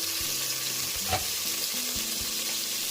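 Onions, tomatoes and halved green chillies frying in a pan, with a steady moderate sizzle and soft clinks and scrapes of stirring. One brief louder scrape is heard near the middle.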